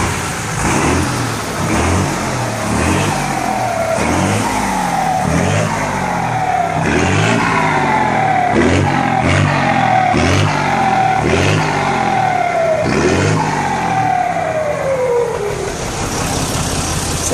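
A Ford tanker truck fitted with a Mercedes 366 engine and turbine comb revs repeatedly while parked, a loud, close engine climbing and falling in several rising pulls with no talk over it.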